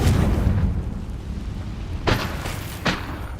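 Confringo and Bombarda spell blasts in the video game Hogwarts Legacy: two sharp booming bursts about a second apart, each rising out of a steady low rumble.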